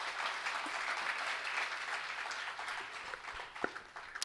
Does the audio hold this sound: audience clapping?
yes